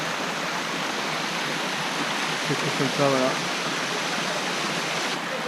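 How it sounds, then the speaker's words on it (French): A waterfall's broadband rushing roar fills the scene steadily at close range, with a brief spoken voice over it. "Une cascade."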